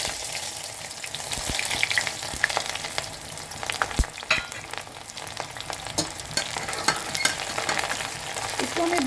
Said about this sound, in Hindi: अब हम इसमें एक प्याज डाल देंगे